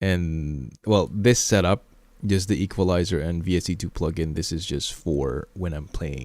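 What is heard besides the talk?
No everyday noise stands out behind the speech.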